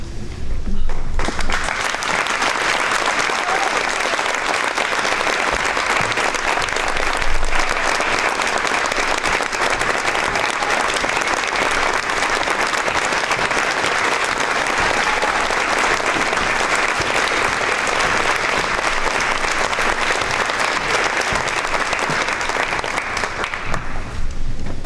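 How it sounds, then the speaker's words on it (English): Audience at a school Veterans Day ceremony applauding veterans, a dense, steady round of clapping held for over twenty seconds, loud and continuous with no talk. "I would ask that all veterans please stand so everyone here can thank you with a round of applause"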